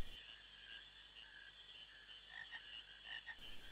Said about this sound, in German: Gibt es ja auch viele Frösche